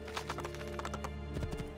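Horse hooves clip-clop in a steady, brisk rhythm in Assassin's Creed II, moderately close and fairly quiet, with a faint whinny-like tone mixed into the trotting.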